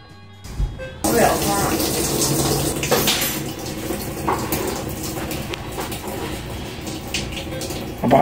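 Cold water rushes into a Maytag commercial washing machine, a steady broadband hiss of inflow that sets in after a second and runs loudly throughout, with faint talk underneath.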